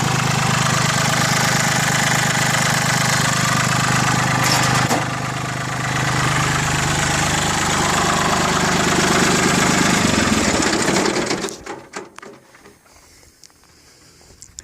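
Mitsubishi MT205 compact tractor diesel engine idling nearby, a steady loud chugging clatter that dips briefly, then cuts off around eleven seconds and rattles to a stop, leaving quiet.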